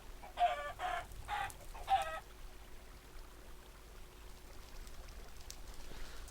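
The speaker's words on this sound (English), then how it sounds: "The idea is for the chickens to catch fire, run away from the fire." Chickens in the video game Minecraft cluck in four short, evenly spaced bursts during the first two seconds, then only faint low background hum remains.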